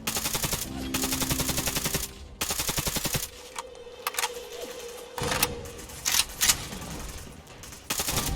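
Rapid automatic gunfire from Fallout 4, loud and close, in long sustained bursts separated by brief pauses, with scattered single shots and clatter in the quieter stretches.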